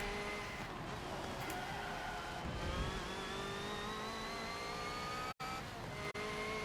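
Race car engine in a Le Mans racing video game, driven hard onto the Mulsanne Straight: a loud, continuous whine that climbs steadily in pitch, with two sharp momentary dropouts near the end.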